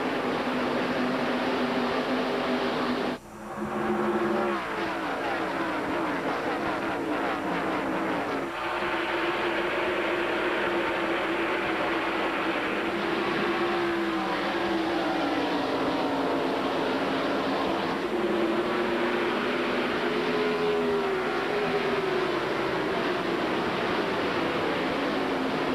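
NASCAR race cars accelerating off the green flag at the 1998 MBNA Platinum 400, a dense sustained engine roar with rising and falling pitch sweeps as cars pass, loud and continuous for the whole stretch.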